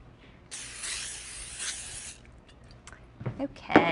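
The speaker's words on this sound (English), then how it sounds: "I'm going to give it another shot of cooking spray." Cooking spray hisses briefly into a pan for about a second and a half, followed by light clinks and a voice.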